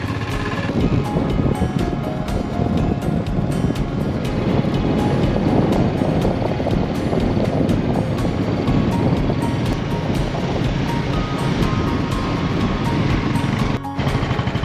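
A motorbike rides over a rocky road near Keylong in Lahaul, giving a loud, continuous rumbling roar with rattling and wind buffeting throughout, close to the microphone.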